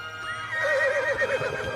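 Horses whinny in a dubbed animated scene of dancing horses on a small island, a wavering neigh rising over a steady background for about a second, with no talk.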